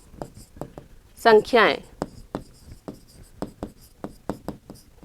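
Chalk or marker taps and scratches on a board during a Class 8 maths lesson on linear equations in one variable, in a steady rhythm of short strokes, with a teacher's voice speaking briefly over them.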